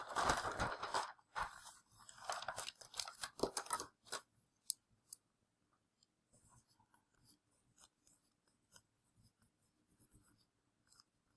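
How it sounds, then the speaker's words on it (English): A sheet of paper is flipped over during handwritten math work: crisp, close rustling and scraping for about four seconds, then near silence with faint scattered scratches. "And I need to flip my paper."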